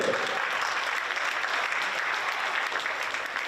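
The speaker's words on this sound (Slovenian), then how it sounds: "Še aplavz za košarkarje in košarkarico iz Idrije" Steady, dense applause from a crowd at a youth basketball event in Sežana, clapping continuously for the players throughout.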